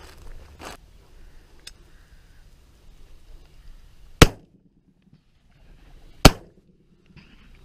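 Two loud, sharp shotgun blasts during a pigeon shoot, about two seconds apart, each followed by a short decaying echo over a quiet outdoor background.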